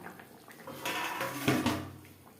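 A lid goes onto a pot of fish curry with a short metallic clatter and scrape, close by and moderately loud, settling with a brief ring.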